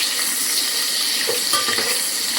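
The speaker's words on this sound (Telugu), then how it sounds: "ఆనియన్స్ కూడా బాగా కొంచెం రెడ్ కలర్లో వచ్చేంత వరకు వేగనివ్వాలి" Onions sizzle in hot oil in a pan, a steady close hiss with faint stirring scrapes under it.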